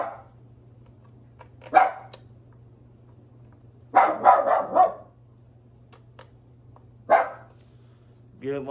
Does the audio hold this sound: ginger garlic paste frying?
no